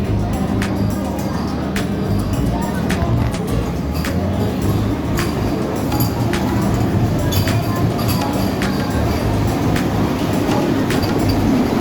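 Train running on the line out of Thiruvananthapuram, a steady continuous rumble with low wheel drone and occasional clicks, close and loud throughout with faint voices beneath.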